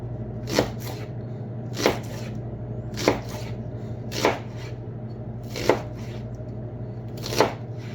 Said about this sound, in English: So I'm cutting into small chunks.